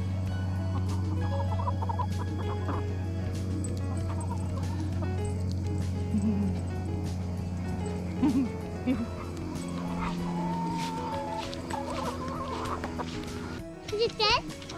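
Backyard chickens and a rooster cluck and call in short bursts over a steady hum, with a dog whimpering and barking nearby and people talking in the background.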